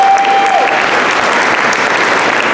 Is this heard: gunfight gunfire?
no